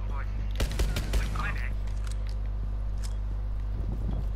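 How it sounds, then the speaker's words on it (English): Several sharp, muffled suppressed gunshots in a video game crack in quick succession over a constant low drone, followed by a few fainter pops near the end. "that's two people who can't hear my gunshots"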